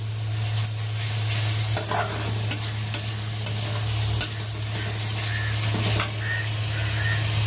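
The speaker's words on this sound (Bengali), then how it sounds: "ভালো করে মশলাটা কষাবো" Spice paste frying in a pan in a home kitchen in Mumbai, a continuous close sizzle with occasional sharp clicks of a spoon stirring against the pan, under a steady low hum.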